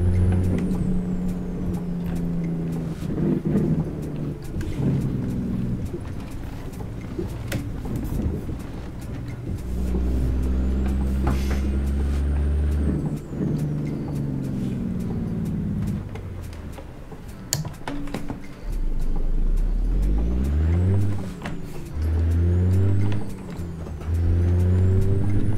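A Kenworth T800 truck engine in American Truck Simulator, driven through Colombian streets, gives a steady deep diesel drone that rises and falls with gear changes, with occasional hissing air-brake bursts, loud and continuous without talk.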